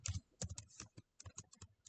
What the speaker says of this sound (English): So we'll start typing hash include,